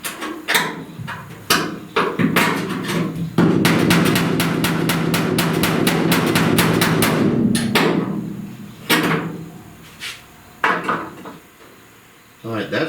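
A hammer taps out dents on the rear panel of a 1969 Chevrolet C10 truck, working without backside access. Sharp metallic strikes come in scattered single hits and then a fast, steady burst, close and loud.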